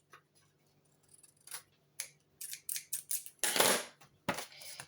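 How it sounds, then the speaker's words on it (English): Scissors trim the edge of a sheet of paper at a craft table, giving a series of close, crisp snips that speed up into a burst of rapid cuts, with no one talking. "I'm just going to trim the edge of that"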